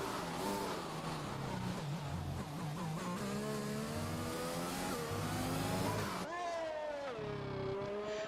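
A McLaren Formula 1 car in the F1 2021 video game races through the Mexico circuit, its high engine note rising and falling through gear shifts, loud and continuous, with a commentator talking over it.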